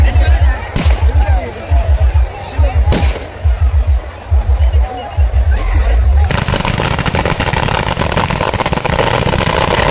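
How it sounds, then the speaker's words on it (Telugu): Firecrackers burst at a village festival in Muddada, Srikakulam, first as a rapid rhythmic string of loud pops, then as a dense continuous crackle, with voices and crowd noise underneath. "ఇక్కడి నుంచి అయితే క్రాకర్స్ ఒక పక్క అవుతుంది"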